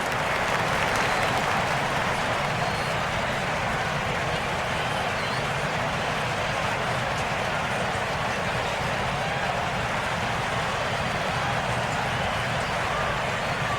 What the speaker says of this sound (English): A little bit of a mock cheer there.